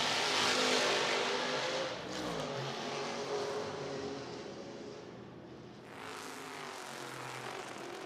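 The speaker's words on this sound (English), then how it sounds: "That's the Roush Mustang, the 15 of Lieberberg." Historic IMSA GTO race cars, including a Roush Mustang and a Chevrolet Camaro, roar past on a racetrack. A loud, continuous engine drone swells and fades as the cars pass, with no talking.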